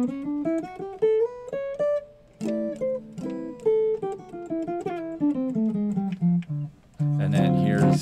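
Jazz guitar played through a Supro Royale tube amp and captured only by an overhead mic, a clean melodic line of chords and single notes in a steady phrase, ending in a louder strummed chord.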